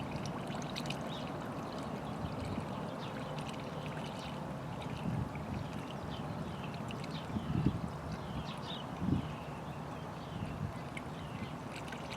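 Coolant poured into the radiator of a 2013 Kia Optima SX Turbo, a faint continuous trickling with a couple of soft gurgling glugs as air bubbles escape.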